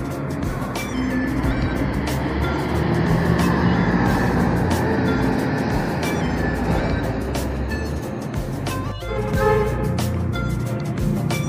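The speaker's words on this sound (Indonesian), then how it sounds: "Ada bus Harapan Jaya datang." A Harapan Jaya intercity bus pulls into the Tamanan bus terminal in Kediri, its engine a steady loud rumble amid busy terminal noise, with a brief rising mechanical whine near the end and no talk.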